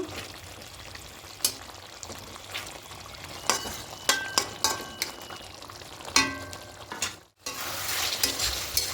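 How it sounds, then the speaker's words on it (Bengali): Katla fish pieces sizzle in hot oil in a pan as they are stirred and tossed, a steady crackling fry broken by scraping clatters of the spatula, close and fairly loud. "এবার এখানে মাছগুলো সব দিয়ে দেব খুব ভালো করে মাখিয়ে নেব"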